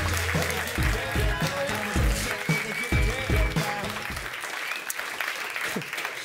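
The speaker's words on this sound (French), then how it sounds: "On peut l'applaudir." A television studio audience applauds steadily and loudly for a performer, continuous dense clapping with some chatter underneath and a few louder thumps early on.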